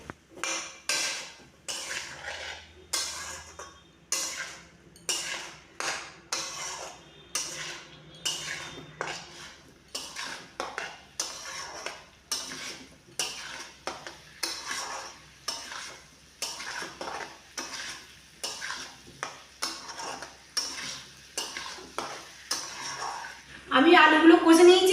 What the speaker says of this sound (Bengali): আমি আবার 5 মিনিট আলুগুলো কষে নেব।